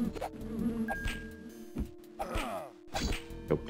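Insects buzz in the Lands of Lore: Throne of Chaos video game, with intermittent droning whines and sharp swooping buzzes close by, punctuated by brief thwacks, with no talking.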